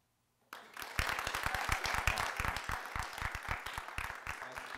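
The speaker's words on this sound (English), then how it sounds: "next we'll try applaud." Studio audience applauding on cue during a radio show rehearsal: a burst of many hands clapping starts suddenly after a brief silence and holds steady, dense and close, for several seconds.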